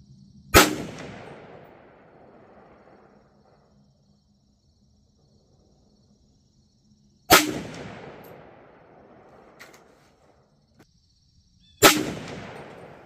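Three sharp, loud rifle reports from a Bear Creek Arsenal 16-inch 300 Blackout upper firing Winchester ammunition, widely spaced several seconds apart, each with a long decaying outdoor echo.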